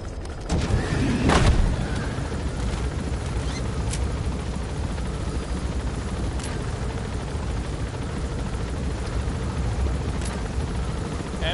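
A helicopter in Metal Gear Solid V: The Phantom Pain whirs steadily throughout as a dense rotor drone. A few sharp impacts break through early and a couple of faint clicks come later.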